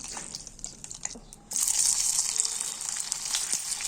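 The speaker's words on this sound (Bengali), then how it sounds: "দুকাগুলো ভেজে নিব।" Pieces of dumpling hitting a little hot oil, a sudden loud sizzle bursting in after a quieter opening and hissing steadily to the end, close by.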